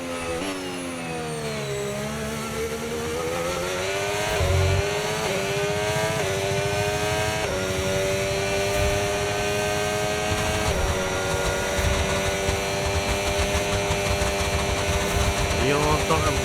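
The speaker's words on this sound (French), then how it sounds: "on entend la voiture qui marsouine, qui vient taper, qui vient rebondir sur le sol" A Formula 1 car engine in the video game F1 25 drones steadily at high pitch, shifting tone as it revs, with a low thump of the car porpoising and bouncing on the track partway through; a voice talks over it.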